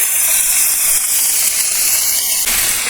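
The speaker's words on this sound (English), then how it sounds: "I will cook the onions in the remaining oil in the same skillet." Onions cook in the remaining oil in a skillet, giving a loud, continuous close-up sizzle and hiss with no pauses.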